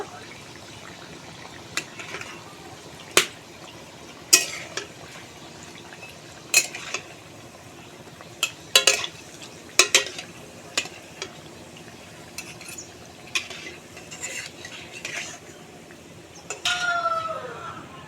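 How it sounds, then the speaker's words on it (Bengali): Palm pitha cakes fry in hot oil with a steady low sizzle, broken by sharp, irregular taps and clinks from a utensil turning them, fairly close. "নেড়ে চেড়ে কিন্তু এইভাবে আমি পিঠাগুলো ভেজে নেব"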